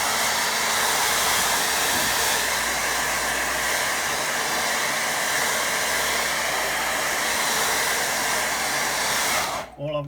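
A hair dryer gives a quick blast over a watercolour windmill painting, a loud steady close whoosh that cuts off abruptly just before the end.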